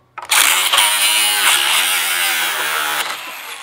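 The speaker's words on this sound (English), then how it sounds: "make sure you have your chrome impact socket on your 13 millimeters to take out your strut top bolts" A cordless impact wrench with a 13 mm chrome impact socket spins out strut top bolts during a suspension install, giving one loud, close, continuous burst of about three seconds with no voices.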